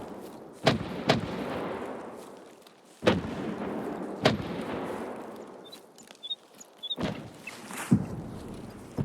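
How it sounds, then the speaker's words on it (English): Mortar strikes in the video game Escape from Tarkov land as several heavy, booming impacts, each with a sharp crack and a long rumbling tail, spaced a second or two apart at a moderate distance. "I've not heard mortar strikes often"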